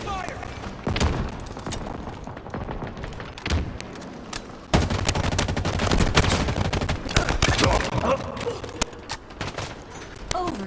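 Dense gunfire in Halo Infinite: rapid repeated shots and bursts at close range with heavy thumps, loud throughout with a strong surge midway, mixed with spoken game announcer lines.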